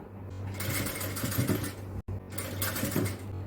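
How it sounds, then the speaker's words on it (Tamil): A sewing machine stitches a designer inskirt in a fast, steady whirring run close by, pausing very briefly at the midpoint before carrying on. "இப்போ நம்ம தைக்கலாம் இந்த ஜாயிண்ட் வரும்போது கரெக்டாக வச்சு தைக்கணும்"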